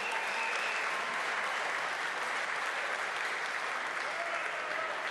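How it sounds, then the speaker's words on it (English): A crowd at a featherweight boxing championship bout applauds the two fighters, dense loud clapping that holds steady throughout with no pauses. "A round of applause for these two fighters."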